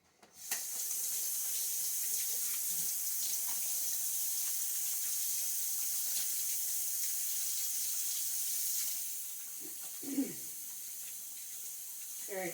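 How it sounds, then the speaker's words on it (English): A kitchen tap gushes steadily while hands are washed under the running water, a loud close hiss that cuts off near the end, followed by brief splashing and drips. "I'm going to go wash my hands."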